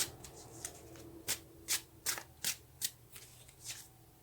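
Tarot cards being shuffled up close and quietly, a run of about nine crisp riffling bursts in an uneven rhythm over a soft room hush.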